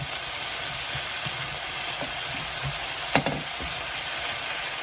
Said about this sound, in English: The zucchini is cooking nicely.